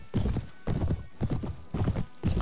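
Horse hooves in Mount and Blade: Warband pound in quick, regular galloping clusters, dull and heavy, repeating without pause at moderate volume.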